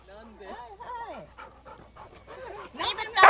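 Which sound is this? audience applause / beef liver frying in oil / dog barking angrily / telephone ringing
dog barking angrily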